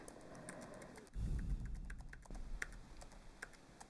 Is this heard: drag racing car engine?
no